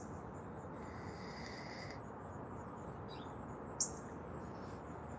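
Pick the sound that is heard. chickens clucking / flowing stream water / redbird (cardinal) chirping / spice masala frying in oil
redbird (cardinal) chirping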